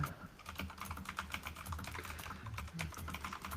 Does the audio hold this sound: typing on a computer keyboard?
yes